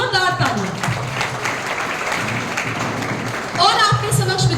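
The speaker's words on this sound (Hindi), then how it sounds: "सर के सम्मान में भी बच्चों एक बार जोरदार तालियां" At a school's anti-drug campaign closing ceremony, students break into a short burst of clapping between stretches of a speaker talking over the sound system.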